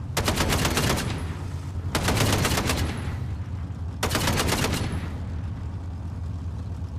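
Bursts of automatic gunfire in a shooting video game, three rapid rattling volleys roughly two seconds apart, loud and dense, followed by steady background rumble with no speech.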